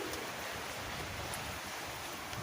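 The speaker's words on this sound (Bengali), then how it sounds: "মোটামুটি হালকা টাইপের একটা বৃষ্টি শুরু হয়ে গেছে" Light rain falls on a tin roof, with water dripping from the metal edge in a soft, steady hiss at low level, with no talking.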